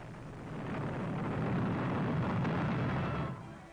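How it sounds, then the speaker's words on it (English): 16-inch artillery shells exploding on Dover during the Second World War: a single heavy, muffled rumbling blast that rolls on for about three seconds before cutting off, with an old, hissy newsreel quality. "the Nazi big guns across the channel were free to pump 16-inch shells into"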